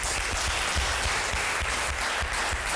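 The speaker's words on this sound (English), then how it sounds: "Round of applause for Ms. Bukola Ladoja." A crowd claps loudly and continuously, with dense, even applause that holds its volume throughout.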